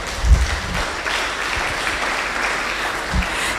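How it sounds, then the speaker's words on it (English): Conference audience at a Faculty of Science event applauding, a steady wash of many hands clapping at moderate distance throughout, with a few louder thumps. "You can now put your hands together."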